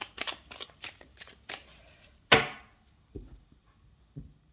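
Tarot cards are riffled and shuffled in quick bursts, then cut with a sharp slap and a few soft taps on a table, close and alone.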